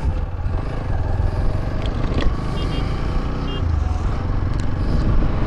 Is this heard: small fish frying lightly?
no